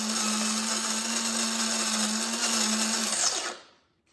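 A Cuisinart Supreme Grind coffee grinder whirs loudly and steadily as it grinds coffee beans, a bright motor whine with a low hum, then winds down and falls silent near the end.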